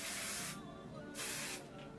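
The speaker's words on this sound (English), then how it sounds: "you want to lightly spray your hair." Short hissing bursts of flexible-hold hairspray misted lightly over a wig: two clear close sprays, then a brief softer puff, with quiet gaps between them.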